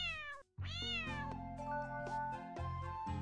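A cat meows in the video game Adorable Home, several clear, close, sustained meows that rise and fall in pitch one after another, with no talking.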